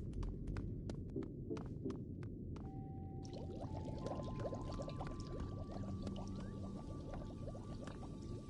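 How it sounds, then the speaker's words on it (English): Water pours in a steady, continuous rush over a deep throbbing hum, with a few sharp clicks at the start and faint tonal whines drifting through later; no voices. "Water."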